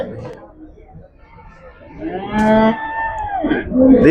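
A loud, drawn-out moo from a water buffalo rises and falls, following brief murmuring voices nearby at the Kuzhalmannam cattle market in Palakkad, Kerala.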